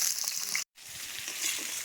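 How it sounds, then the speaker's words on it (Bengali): Eggplant and other vegetables fry in plain oil, making a steady close sizzle with a short silent gap partway through. "সমস্ত সবজিগুলোই আমি কিন্তু খালি তেলে ভেজে নেব"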